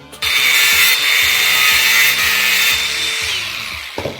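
A power tool whines steadily while cutting four small slots in a part of a 1954 Sachs Alpa, a loud continuous grinding buzz that shifts slightly in pitch before winding down.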